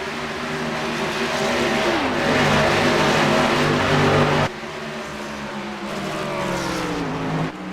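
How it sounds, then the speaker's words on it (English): Race cars in the iRacing video game surge away at the green flag at Indianapolis, a loud, continuous roar of revving engines with rising pitch sweeps as the field accelerates, briefly dipping midway before building again. "Down and away is Brody Kostecki as we go green flag racing from Indianapolis."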